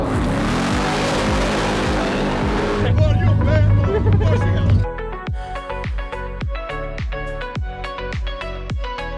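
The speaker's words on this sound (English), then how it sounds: "This is the first time this car has ever gone full throttle" A Hellcat Challenger drag car roars at full throttle, a loud sustained engine blast that shifts up partway through, then drops into a choppy, pulsing idle-like burble with sharp repeated bursts.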